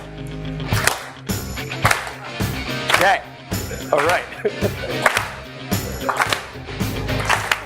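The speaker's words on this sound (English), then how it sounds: "We gotta find the beat and then we gotta clap to the beat." At a startup lecture on building for the enterprise, an audience claps along to the beat of loud music, with a steady, roughly once-per-second rhythm of sharp claps throughout and brief talk over it.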